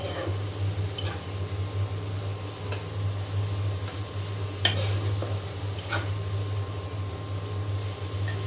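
Shrimp frying in a pan on a home stove, a steady low sizzle and bubbling hum throughout, with a few sharp clicks of a utensil scraping or stirring the pan.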